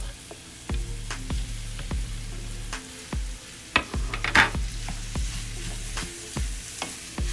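Italian sausage and ground chuck fry in a pan with a steady sizzle, while a utensil scrapes and stirs through the meat in repeated close, sharp strokes; no one speaks.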